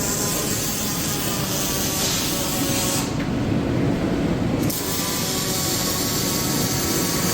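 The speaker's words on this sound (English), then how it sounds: "This is all fab welding now. We got robotic welders." Robotic welding cells running on a fabrication floor at a Minnesota manufacturing plant, a continuous loud broadband industrial roar and hiss with a brief dip in the highs midway, no talk.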